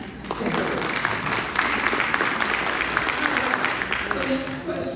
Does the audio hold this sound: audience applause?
yes